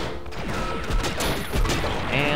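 Rockets firing in Cortex Command, a busy flurry of repeated launches and bangs with whistling streaks. The barrage is loud and steady throughout the short stretch.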